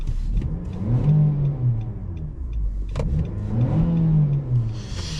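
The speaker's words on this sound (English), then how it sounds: "If you want to hear a little exhaust note," A Nissan Qashqai's engine and exhaust rev up from inside the cabin on a snowy day, two rising swells a couple of seconds apart, loud and close with no talking.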